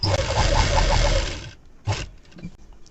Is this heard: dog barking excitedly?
no